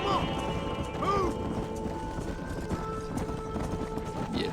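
A herd of horses gallops in the Red Dead Redemption video game, a dense clatter of hooves with occasional whinnies, heard over game music and ambient sound.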